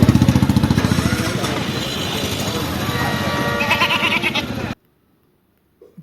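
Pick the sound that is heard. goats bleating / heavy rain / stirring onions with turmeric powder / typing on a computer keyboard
goats bleating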